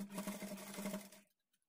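A sewing machine stitches a high neck blouse in one short, steady run that stops abruptly, followed by near silence.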